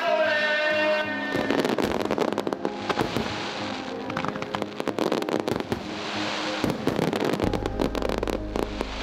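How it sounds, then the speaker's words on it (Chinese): Fireworks pop and crackle in dense, rapid volleys during the Dajia Mazu pilgrimage procession, arriving at Xingang Fengtian Temple, loud and continuous with a sharp burst near the end. "在璀璨光芒的烟花中"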